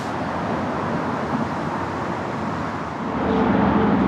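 Steady freeway traffic drones from the road passing above a waterfall in Girrakool National Park on the Central Coast, New South Wales, a broad continuous wash of passing vehicles that swells slightly louder near the end.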